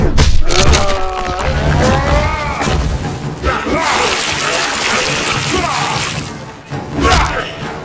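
Kicks and hits land in Mortal Kombat 9 with heavy thuds, smashing impacts and grunting groans, a dense run of game combat sounds alongside game music for several seconds.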